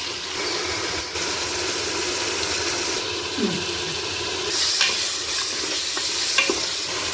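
Ginger garlic paste sizzles and fries in a pan while a utensil stirs it for a Tamil country-chicken biryani, a steady close crackle with occasional scraping strokes and no talk.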